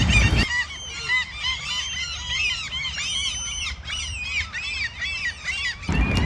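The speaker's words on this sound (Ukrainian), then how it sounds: "бо мене збила ситуація з чайками. Бо їх дуже багато." A large flock of seagulls calls loudly and continuously, overlapping squawks and cries packed densely together and close by, with no voices.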